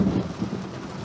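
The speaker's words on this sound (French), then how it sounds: "l'impact de foudre est tombé là, en face de moi, à 30 mètres, 50 mètres" Rolling thunder from a lightning strike close by during a violent summer storm, a loud rumbling burst over steady heavy rain with no voices.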